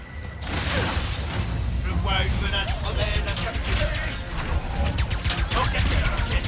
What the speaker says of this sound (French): on va prendre le pistolet rafale là